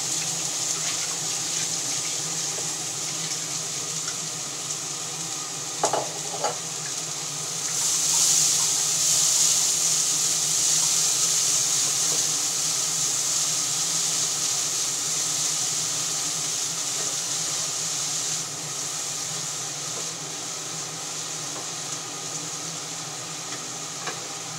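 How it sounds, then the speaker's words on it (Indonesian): Bean sprouts stir-fry in a pan with a steady, close, rushing hiss that swells slightly midway and stays continuous, with a few faint knocks. "Ini ibu tumis sayur togenya ya"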